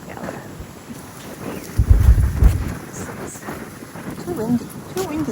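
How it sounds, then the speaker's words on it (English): Gusty wind buffeting a microphone outdoors on a blustery day, with low rumbling surges that swell loudest midway and lighter background noise throughout. "Too windy today."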